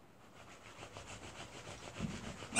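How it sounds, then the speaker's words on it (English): Wet wool felt rubbed by hand around a bar of soap, a soft, steady scratchy friction in repeated strokes, faint and close, growing slightly louder toward the end. "So you want to rub it in one direction."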